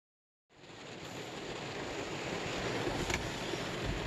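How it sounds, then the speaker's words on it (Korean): Heavy rain falls steadily at dawn beside a reservoir on an island during an autumn fishing trip, a dense continuous wash that starts abruptly and stays constant with no voices. "빗소리에 좀 깼는데요. 비가 많이 오네요."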